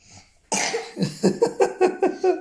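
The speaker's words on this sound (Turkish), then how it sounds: "önce öksüreyim." A young boy coughs in a quick series of about eight short, harsh, evenly spaced bursts, close and loud, with no talking.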